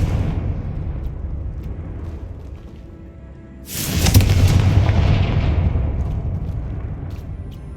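Confringo blasting spells explode in the Hogwarts Legacy video game on Xbox Series X, with a rumbling low roar that swells into a loud booming burst midway and then a long fading rumble.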